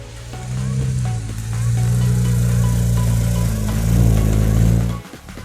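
A Toyota Yaris race car engine running close and loud at a rumbling idle, swelling in pitch with a short rev near the end before cutting off abruptly.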